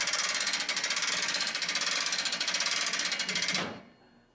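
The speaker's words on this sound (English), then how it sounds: "Now just basically crank it up." Proline Tool Lift King bed lift being cranked by hand, a fast, steady run of ratchet clicks close up for several seconds, then the clicking stops abruptly and fades into quiet.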